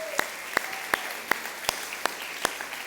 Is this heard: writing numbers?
no